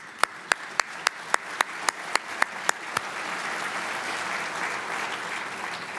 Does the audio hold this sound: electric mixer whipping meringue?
no